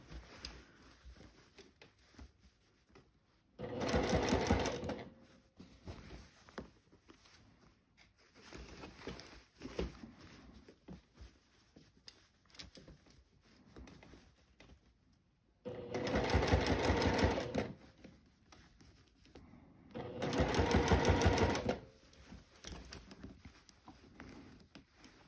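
Domestic sewing machine stitching a seam on a floral sundress, running in three distinct bursts of steady, rapid mechanical whirring with quiet handling rustle between them, close and fairly loud.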